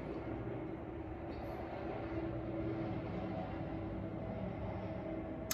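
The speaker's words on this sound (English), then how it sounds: "There's a train track close to my house and it's like passing." Train passing on a track close to a house, heard as a quiet, steady low rumble that holds evenly throughout, with no voices present.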